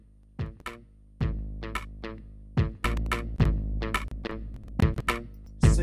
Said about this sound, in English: the master volume goes straight up in the beginning and it sounds like this.